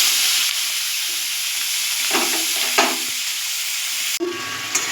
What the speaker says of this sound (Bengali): এবার আমি নুন হলুদ মাখানো চিংড়ি মাছটা কড়াইতে তেল